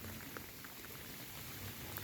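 Steady, dense patter of heavy rain falling continuously on rice fields, with scattered droplet ticks over a constant wash; no voices.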